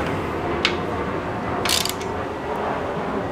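Ratchet wrench snugging a bolt on a motorized bicycle's chain guard, giving two short bursts of quick clicking against steady background noise, with no one speaking.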